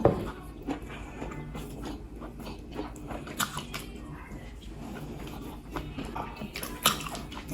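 Close, wet chewing and biting of mackerel fish eaten with spinach pepper soup and pounded yam fufu, with soft squishy crunches and smacks repeating irregularly through the clip.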